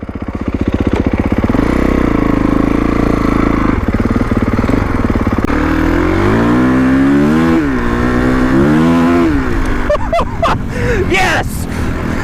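A 2021 Kawasaki KX450X dirt bike ridden on hard-pack ground, its engine loud and close, revving up and down in rising and falling sweeps throughout, with a rider's voice now and then.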